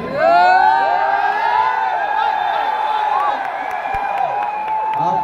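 A large, loud crowd cheers and shouts with excitement at a political rally, the roar sustained and dense throughout with many overlapping voices and whoops.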